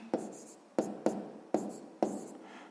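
Pen writing numbers on paper during a sixth-grade maths exercise, heard as five brisk scratchy strokes in quick succession, close and fairly quiet, with no talking.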